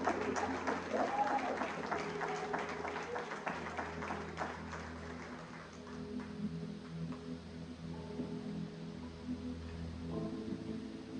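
A church congregation applauds, a distant, fairly faint crowd clapping that is strongest at first and thins out over about eleven seconds, with low background hum underneath.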